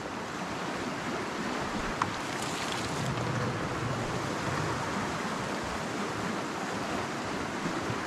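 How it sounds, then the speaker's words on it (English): Dirty water pours through a shirt used as a filter, making a continuous, even rush of splashing and trickling that stays close and steady throughout, with no talking. "This water is very icky, so I'm putting it through a screen of a shirt."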